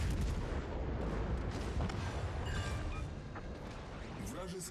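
Dense, rumbling barrage of high-explosive shell hits on a warship in a naval combat video game, a continuous roar of impacts and booms with overlapping gunfire, loud throughout with a voice talking over it.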